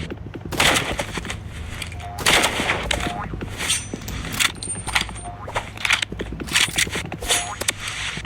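Sniper rifle gunshots in a Roblox shooting game, several sharp cracks at irregular intervals over a steady mid-level bed of game sound with busy clatter between shots.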